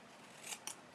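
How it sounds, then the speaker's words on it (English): Scissors cut paper up to a score line while making a box, two quick faint snips close together in a quiet room. "So we're going to cut up to the score line"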